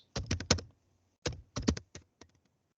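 Quiet bursts of typing on a computer keyboard: a quick cluster of key clicks, a pause, then another uneven run of taps, close and without talk.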